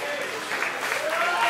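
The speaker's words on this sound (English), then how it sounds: "Round of applause for Bobby and Terry." A crowd claps at a live band concert in a bar venue, steady applause that swells slightly toward the end with some voices mixed into the clapping.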